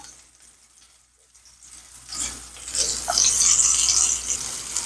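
Kababs for handi kabab frying in a pan after being frozen, a sizzling hiss that starts faint and quiet, then rises to a steady loud crackle over the last few seconds, with no voices.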